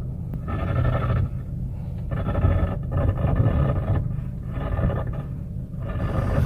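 A faulty electric power steering motor on a Hyundai Accent gives a low, rough grinding rumble that swells and fades in repeated bursts as the wheel is turned, close and steady with no talk.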